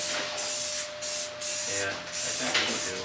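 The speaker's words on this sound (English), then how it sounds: "Love the smell of spray paint." Spray paint hisses from an aerosol can onto a van in a series of sustained bursts about half a second to a second long, separated by brief pauses, while a person speaks underneath.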